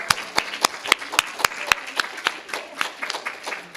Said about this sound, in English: can we just get a round of applause for Cameron?